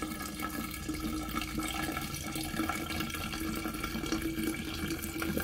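Strong alcohol is poured to fill a container for a propolis tincture, giving a continuous close splashing, gurgling liquid flow with no talk over it.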